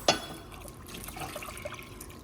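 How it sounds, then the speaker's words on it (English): Milk poured into a pot for banana pudding, a soft continuous liquid trickle after a brief clink at the start, fairly quiet and close. "And I'm also going to add my 2 cups of milk."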